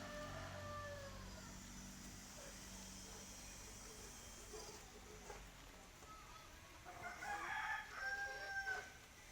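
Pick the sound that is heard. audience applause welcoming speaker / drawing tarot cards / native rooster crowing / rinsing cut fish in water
native rooster crowing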